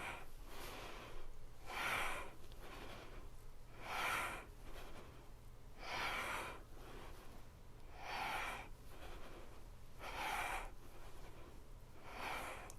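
Slow, steady yoga breathing during a guided flow: six soft, airy breaths roughly two seconds apart, close and fairly quiet, alternating inhale and exhale with no talking.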